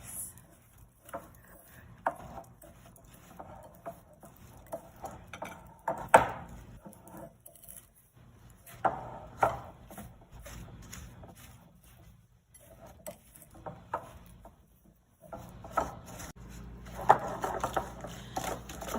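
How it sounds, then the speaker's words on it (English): Butter and sugar being worked together by hand for chocolate chip cookie dough, giving a steady run of soft scraping and clinking strokes from a utensil against a bowl, with louder bursts at times and no talking. "I'm keeping on mixing until all of the butter is completely incorporated"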